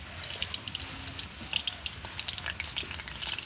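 Pitha, an oil-fried sweet, sizzles in hot oil with a steady faint crackle and spitting pops, heard close and quiet with no voices.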